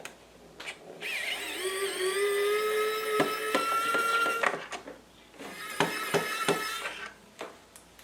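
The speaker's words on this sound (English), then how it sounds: "Using the tool of your choice, remove both screws." A small screwdriver or electric driver whirs with a rising tone, then gives a series of sharp clicks and taps while two screws are backed out of a Bambu Lab AMS filament unit, close and fairly quiet.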